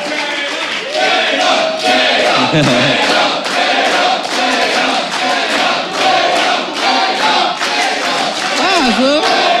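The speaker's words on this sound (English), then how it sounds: "I'm not actually sure who the crowd is cheering for this one" A loud crowd at a StarCraft 2 esports match roars and cheers continuously, with a voice talking over the din.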